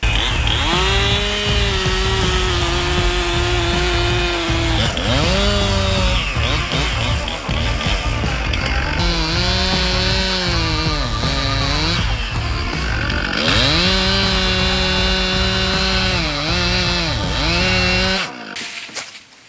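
A chainsaw runs loud and close throughout, plunge cutting into a palm tree trunk during felling, with repeated rises and dips in engine pitch as the bar bores into the wood before cutting off near the end.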